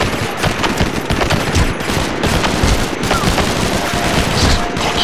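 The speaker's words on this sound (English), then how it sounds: "Concentrate your fire!" A loud, sustained barrage of automatic gunfire and overlapping shots fills a combat scene in SOCOM 4 U.S. Navy SEALs, a dense wall of fire with muffled booms and voices buried in the din.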